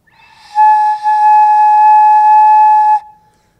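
A single sustained flute note blown by a beginner, a steady clear tone with a brief wobble near the start, held for about two and a half seconds alone before stopping.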